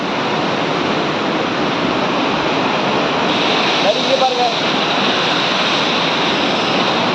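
Water flows steadily at the Ashok Vatika temple in Sri Lanka, a dense, even rushing roar up close, with a voice faintly audible beneath it for a moment.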